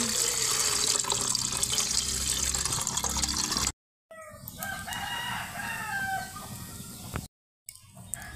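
Water runs steadily from a tap for several seconds, dense and close, with a rooster crowing faintly in the background; after a brief silence a quieter rushing water sound continues with more crowing.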